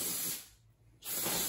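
Carb cleaner is sprayed onto the fuel rail of a Buell motorcycle during an injector replacement. Two close, hissing spritzes come in quick succession with a short pause between them.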